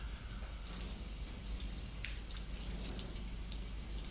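Tap water runs steadily during a surgical hand scrub, rinsing from the hands down toward the elbows, with a continuous splashing hiss and scattered drips against the sink, close by and without talk.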